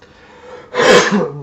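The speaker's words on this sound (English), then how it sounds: "sorry about the cough." A single sharp cough following a faint breath, loud and close, with a short throaty tail.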